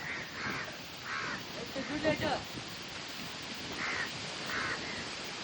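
Crows caw repeatedly outdoors, giving several separate harsh caws at a moderate distance over a constant background hiss, with faint human voices mixed in.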